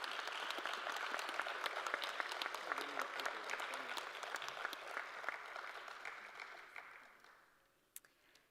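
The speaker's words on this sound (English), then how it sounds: "Let's give one more round of applause for all of these wonderful achievers tonight" A crowd at a fine arts achievers awards night gives a warm round of applause that stays full for several seconds, then thins and fades to a few last claps.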